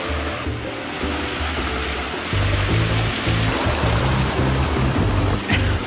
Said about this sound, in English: It's a waterfall going on in there.